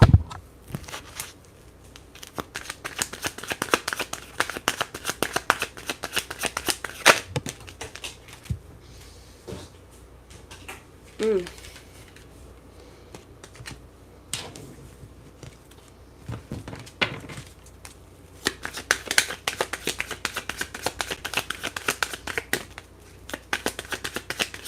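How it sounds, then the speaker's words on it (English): Tarot cards shuffled by hand in quiet bursts of soft riffling and flicking, pausing around the middle and resuming, with no talking. "Let's pull another card to clarify."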